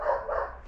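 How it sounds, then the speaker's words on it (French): A dog barks outdoors in a garden, two short, fairly loud barks in quick succession with no talking. "Un chien qui gueule."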